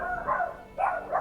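Dog in the video game Lord of the Rings: War in the North, giving two or three quick mid-pitched barks, close and fairly loud, over a quiet game background.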